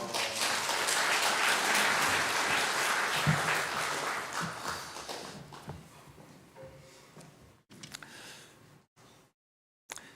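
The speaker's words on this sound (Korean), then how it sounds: "오른손을 들고 할렐루야 하고 박수로 환영하시겠습니다" A church congregation claps steadily for several seconds during a Sunday service, then the applause fades away into near silence with a few scattered sounds.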